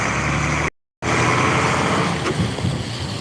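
An old garbage truck's engine rumbles steadily close by, broken by a brief gap of silence before the low drone and clanking road noise resume.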